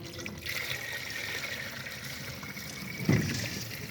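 Coolant pours and trickles steadily into a car radiator, with a faint gurgle near the end and a low background hum.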